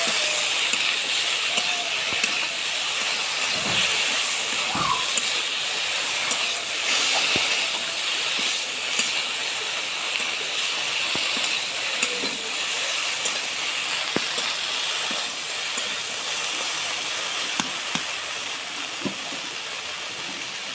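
Okra fries in a pan with a continuous close sizzling hiss, broken now and then by faint scraping knocks as it is stirred.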